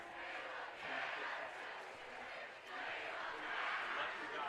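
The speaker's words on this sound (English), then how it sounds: "Crowd really getting into it here as Cathedral trying to pick up a nice win on the road" A crowd at a high school football game, Cathedral against Bishop Chatard, cheers in a steady distant roar that rises and falls in waves, faint overall, with a voice talking underneath.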